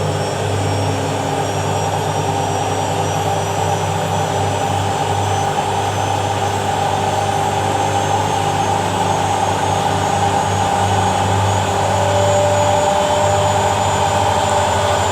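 A washing machine spins a Pringles carton at 900 RPM: a loud, steady high-speed whine and roar with a constant hum, running without pause and with no talking.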